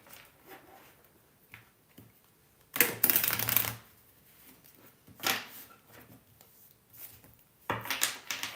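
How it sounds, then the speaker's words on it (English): Tarot cards being shuffled by hand in several separate bursts of riffling and rustling, each lasting about a second with quiet pauses between them, close up and with no voices. "Let me do the shuffling"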